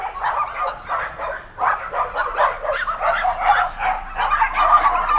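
Several dogs bark, yip and whimper continuously at a pet food research center, a busy chorus of overlapping calls close by without pause.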